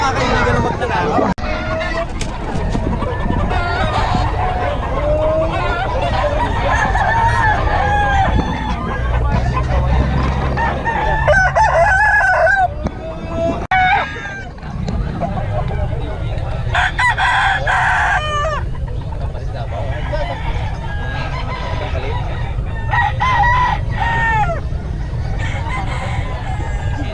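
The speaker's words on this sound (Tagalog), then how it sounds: "Marami lang mga manok dito." Several roosters crow repeatedly, loud and close, while hens cluck around them and people chatter in the background at a market in Bocaue.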